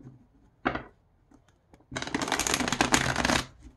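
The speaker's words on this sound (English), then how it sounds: "I'm gonna have to ask her if she ever riffle shuffled this deck." A stiff deck of playing cards from the 1970s, still in good condition, gives a short snap, then a dense riffle-shuffle burst about a second and a half long, close and crisp.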